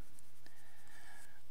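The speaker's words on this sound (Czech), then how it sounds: "nanesu tyčinku na papír, tak je to takový blemcavý, vlhký" A tempera paint stick is pushed and dragged across paper, giving a soft, close, continuous scratchy rubbing with a short scrape near the start, over a faint steady background hum and with no talk.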